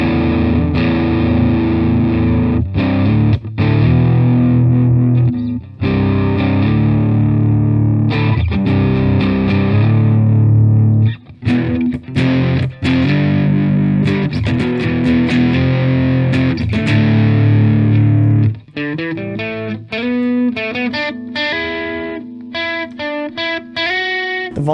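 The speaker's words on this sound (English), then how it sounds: "same distortion level, at that nice gritty level that we like, let's see how it sounds with 18 volts" Electric guitar played through a distortion pedal set to a gritty level and powered at 18 volts: loud, saturated sustained chords with brief gaps, shifting to quicker picked single notes near the end.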